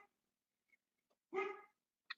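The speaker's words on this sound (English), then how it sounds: "And if you hear the dog barking in the background," A pet dog indoors gives one short, clear bark at a medium distance, preceded by faint small noises and followed by a brief yip, with quiet between the sounds.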